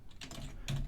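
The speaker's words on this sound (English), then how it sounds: "I'm going to type parallax ref.offset" Code is typed on a computer keyboard in a quick, close, soft burst of keystrokes.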